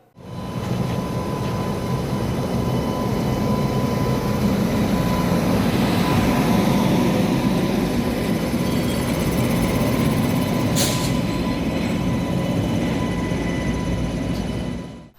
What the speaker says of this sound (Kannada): ಬೆಂಗಳೂರಿನಿಂದ ಅಯೋಧ್ಯೆಯವರೆಗೂ ಸಂಚರಿಸಲಿರುವ ಆಸ್ಥಾ ಹೆಸರಿನ ವಿಶೇಷ ರೈಲು ಬೆಳಿಗ್ಗೆ ಅರಸೀಕೆರೆ ರೈಲು ನಿಲ್ದಾಣಕ್ಕೆ ಆಗಮಿಸಿದ್ದು